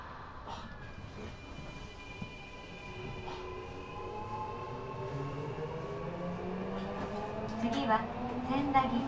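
Eidan 6000 series subway train, a car fitted with 7000-series VF inverter equipment and an unusual noise, running between stations near Nishi-Nippori and Sendagi; steady rumbling ride noise with rising and falling motor whine that builds toward the end.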